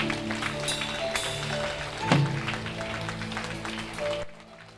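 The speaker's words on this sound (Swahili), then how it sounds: "Mpe Yesu makofi kama leo." A church congregation at a deliverance prayer meeting in Mwanza applauds in dense, continuous clapping over sustained keyboard tones, then cuts off abruptly just before the end.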